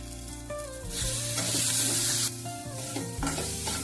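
Chilli powder and turmeric masala sizzle and fry in a hot pan while a spoon stirs and scrapes through it, with steady close sizzling and a louder burst in the middle.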